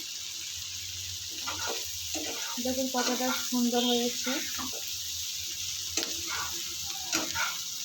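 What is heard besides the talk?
prawns frying in oil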